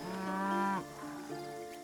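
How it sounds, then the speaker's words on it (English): Cows in the video game Titan Quest II give one clear, close moo that breaks into a second, lower lowing tone, and no one talks over it. "Come on, cows. Follow me."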